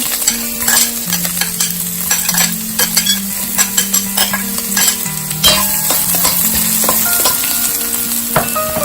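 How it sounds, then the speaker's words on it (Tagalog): Onions sautéing in leftover pork fat in a pan, a steady loud sizzle with frequent scraping stirs and utensil clicks, no voices. "yung excess fat from sa pork na prinito natin, gagamitin natin yon para mag-isa ng onions at garlic"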